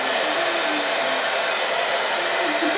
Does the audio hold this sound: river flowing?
no